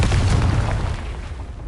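A Confringo blasting spell goes off in Hogwarts Legacy, a single loud, deep boom that rumbles and slowly fades with no voices over it.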